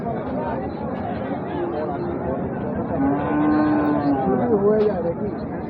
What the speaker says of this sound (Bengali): এই হলো গরু